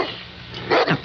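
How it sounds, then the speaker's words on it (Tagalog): A big dog barks, two close, loud barks in quick succession near the end, following a stretch of quieter room noise. "Ibulos ko ti dakal nga aso."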